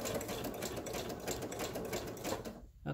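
A sewing machine runs a straight stitch through fabric laid on paper, a steady close whirring with a fast even needle rhythm that drops out briefly near the end before starting up again.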